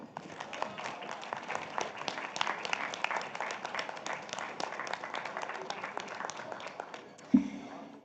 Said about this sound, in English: please give a big round of applause to our guest of honor and speaker today